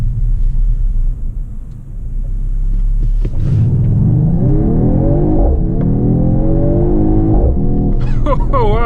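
A 2020 Mercedes-AMG GT 53 4-door coupe accelerates hard, its deep engine rumble building with rising, sweeping tones that climb and shift through gears, loud and close throughout.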